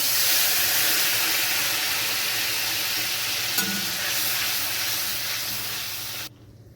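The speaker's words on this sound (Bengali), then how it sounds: "মশলাটা একটু খুন্তি দিয়ে নাড়াচাড়া করে নিলাম" Spice paste is stirred with a metal spatula in a hot frying pan, producing a loud continuous hissing sizzle close up with a faint scrape midway, before it cuts off abruptly near the end.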